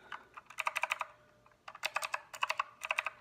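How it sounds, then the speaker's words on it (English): Keys on a RedDragon K552 mechanical keyboard being pressed in quick bursts of clicky, clacky strokes, close and fairly quiet, with short pauses between flurries. "it's a really nice mechanical sound to it."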